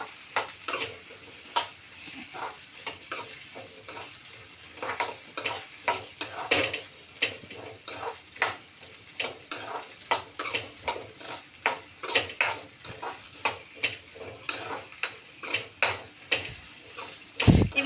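Green chilies fry in a pan for a tomato chutney, a continuous hiss of oil under a quick, regular run of spoon scrapes and taps against the metal, close and busy throughout.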